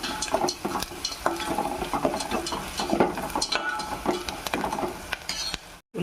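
Onions frying with turmeric in a pan, steady close sizzling with scraping and stirring clatter from a utensil throughout, no speech.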